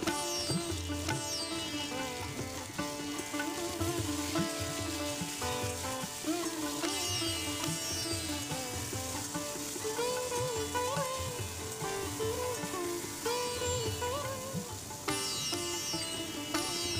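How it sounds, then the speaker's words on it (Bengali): Sliced pointed gourd (potol) fries under a lid in a covered pan, giving a steady, continuous sizzle that lasts throughout, with a melodic tune playing over it. "পটলটাকে আমি একটু কিছুক্ষণ চাপা দিয়ে ভাজতে দেবো"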